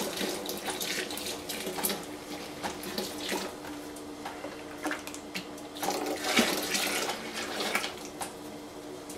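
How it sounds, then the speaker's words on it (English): Cold water pours steadily into a homebrew beer boil of malt extract, a loud, continuous splashing gush with uneven surges, close by and with no talking. "the cold water added into the boil"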